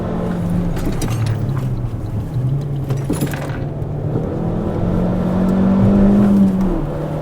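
An Alfa Romeo MiTo QV on Bilstein B14 suspension is driven hard through a corner, with a steady engine drone rising into a higher, strained rev near the end and no talk.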